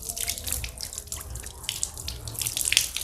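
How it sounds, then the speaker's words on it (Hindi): Water poured by hand for wudu ablution, splashing and dripping into a basin in quick irregular bursts, close and fairly clear with no voices. "बल्कि इस तरह से डालना है पानी"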